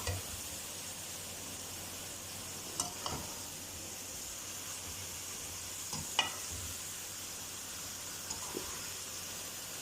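Okra and potatoes frying in oil as they are stirred into masala, a steady soft sizzle with a few spaced scrapes of the spoon against the pan, no talk over it.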